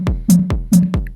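Pitched kick drum pattern programmed on a mobile music device: deep booming thumps alternating with bright tonal hits in a steady looping rhythm, about six beats, close and alone with no talk.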